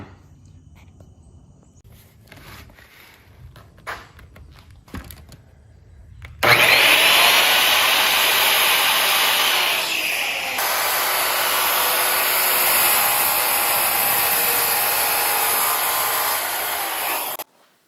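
A power drill driving into wood through a Harbor Freight pocket hole jig while a wheelchair ramp is built: a loud, steady whine runs continuously for about eleven seconds after quieter handling noises, with a brief dip midway.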